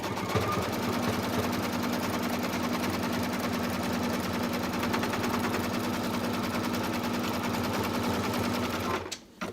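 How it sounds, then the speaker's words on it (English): An embroidery machine runs an in-the-hoop stitch line around a zipper bag outline, producing a rapid, steady mechanical chatter with a sustained hum that continues unbroken before stopping abruptly at the end. "I'm gonna go ahead and press start, and I'm just holding it"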